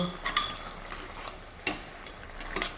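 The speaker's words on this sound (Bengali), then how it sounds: "এখন ফ্লেমটা হাইয়ে করে দেবো আর কি অবস্থা একটু নাড়িয়ে দেখব" A spoon scrapes and clinks against a pan while stirring a chal kumro (ash gourd) and chicken curry, making a few sparse, close metallic taps over a quiet background.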